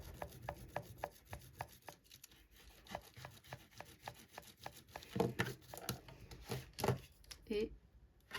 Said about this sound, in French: On va tout gommer.